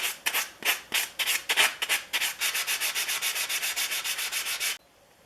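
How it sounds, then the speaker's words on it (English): Sanding sponge rubbed briskly along the edges of a Stanley No. 60 low angle block plane, a steady run of about twenty close, even rasping strokes that speed up toward the end, then stop abruptly. "I'm going to use a sanding sponge around all these edges right here"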